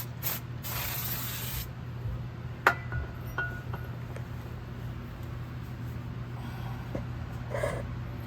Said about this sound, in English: then we'll spray clean it again